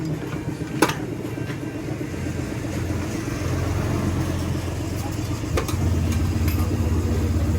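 A motorcycle engine idles steadily after its battery and push button were replaced, a low continuous rumble close by with a couple of brief knocks over it.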